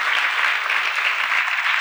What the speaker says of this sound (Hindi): अब छात्रों, आपको ताली बजाने का नंबर है।